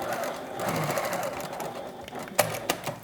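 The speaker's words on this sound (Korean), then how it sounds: "이렇게 반대편도 똑같은 방법으로 봉제를 해볼게요." A sewing machine runs in a steady whir while stitching a zipper into a cotton bustier dress, followed by a couple of sharp clicks near the end, with no talk.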